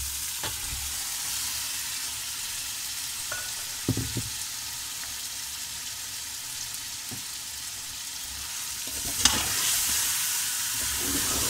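Washed goat meat fries in spice masala with a steady, close sizzle, broken by a few spoon scrapes and stirring clacks, and no one talking.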